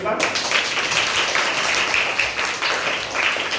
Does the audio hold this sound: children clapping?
yes